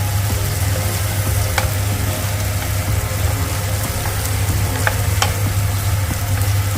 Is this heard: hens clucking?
no